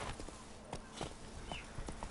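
Hooves of the horse Roach cantering in The Witcher 3: Blood and Wine, a quiet, steady clip-clop rhythm of repeated hoofbeats running throughout with no talk.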